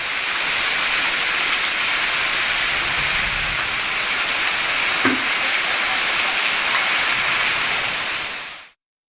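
Heavy monsoon rain pours down in a constant dense hiss for several seconds, loud and unbroken, before cutting off abruptly at the end.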